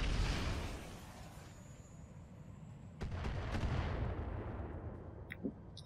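Weapons fire at a carrier in the mech combat game Roguetech, heard as a rumbling barrage with sharp bursts around the middle and later cracks near the end, dense and fairly loud throughout.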